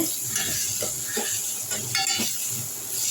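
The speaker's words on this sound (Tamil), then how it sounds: "இப்போ வெங்காயம் நல்லா வதங்கிடுச்சு ஓரளவுக்கு" Onions sautéing in a pan for a green chilli sambar give off a steady close hiss and crackle, with a few soft clinks of a spoon stirring against the pan.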